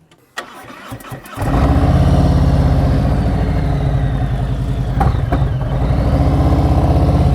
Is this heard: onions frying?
no